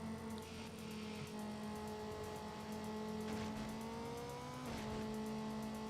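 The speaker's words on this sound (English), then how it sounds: "You want to stay in the higher RPM as much as possible." A car engine in Need for Speed: Underground revs at high RPM in a racing game, a steady tonal whine that climbs and drops with gear changes, fairly quiet and with no talk.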